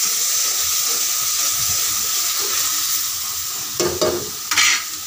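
A steady loud sizzling hiss fills a cooking pan after oil goes in, continuous and close, with a couple of short clatters or stirring scrapes near the end and no talking.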